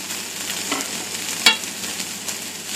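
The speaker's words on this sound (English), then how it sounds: "add the kale and keep stirring until it wilts" Kale being stirred in a hot frying pan, a steady soft sizzle with scraping strokes and one sharper clatter near the middle, close and moderately loud, no talking.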